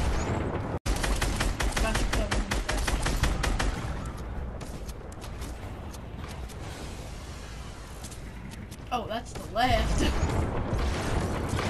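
Rapid bursts of gunfire in Fortnite aimed at a zombie spawner, the shots repeating quickly and loudly across the scene as players talk over them.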